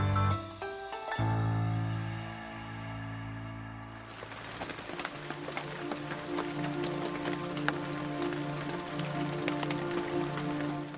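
Summer rain falls in Kyoto, a dense, even patter of drops on surfaces that settles in after a few seconds of low tonal sound and continues steadily, with no voices.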